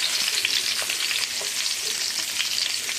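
Whole ingredients sautéing in a pan for Tamil vatha kuzhambu, a loud, continuous close sizzle with faint stirring scrapes and no talk.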